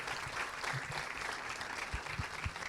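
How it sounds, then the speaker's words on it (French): An audience in a cinema during a live show in Lorient claps steadily, a moderately loud even patter of applause with a few low thumps near the end and no clear talk. "On peut t'applaudir toi."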